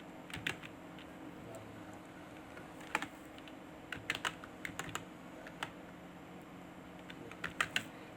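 Fingers type on a computer keyboard in a quiet room, irregular bursts of soft close clicks and taps with short pauses between words over a low hum.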